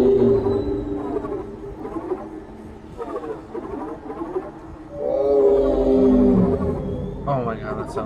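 A deep, whale-like creature roar in the Dead Space video game, long groaning calls rising and falling over several seconds, loud and near, with a person talking over parts of it.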